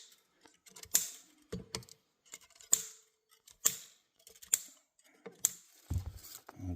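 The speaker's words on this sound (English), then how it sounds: "Let's get the strings cut off." Steel strings are snipped off a Fender Stratocaster being relic'd: five sharp, crisp snaps spaced about a second apart, close and fairly quiet, with faint handling noise between them.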